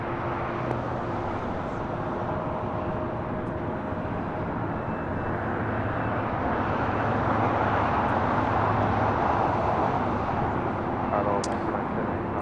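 A large passenger jet landing on runway 25 left at LAX airport, its broad engine roar steady and fairly loud across the whole stretch, swelling slightly toward the end, with a voice talking over it.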